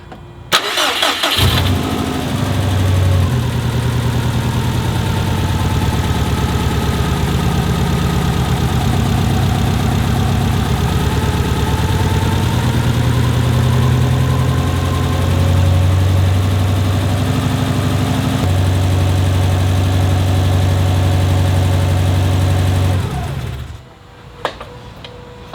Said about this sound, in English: Can I start the car to see if this fixes the problems before we go?